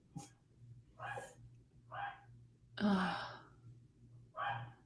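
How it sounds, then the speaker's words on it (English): A dog barks in short separate bursts, about five spaced barks of varying strength, heard at a moderate distance in a quiet indoor setting. "Oh, that's your dog."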